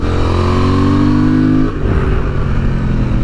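Honda Transalp motorcycle accelerating hard, a loud close engine note climbing steadily through the revs, then a quick drop at a gear change before it pulls again with a rougher roar.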